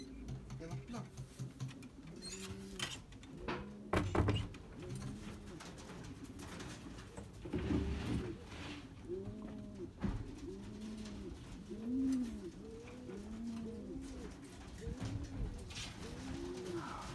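Wood pigeons cooing repeatedly in soft rhythmic phrases at a loft awaiting racing pigeons returning from a 143 km race, fairly close, with someone speaking at times over the calls.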